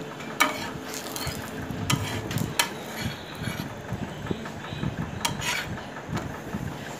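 A wheat and ragi chapati sizzles in a light film of oil on a hot pan, with a steady crackling fry broken by occasional sharp taps and scrapes of a spatula close by.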